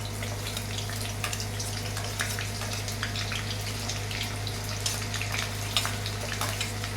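Garlic, ginger and green chilli sauté with mustard seeds in hot oil for a dry mango pickle, giving a steady close crackle with scattered sharp pops over a low constant hum.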